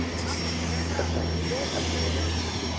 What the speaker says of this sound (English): You see they preparing the jets right now.